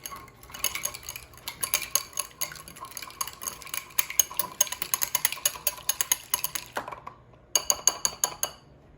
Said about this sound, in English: I'm going to whisk this up.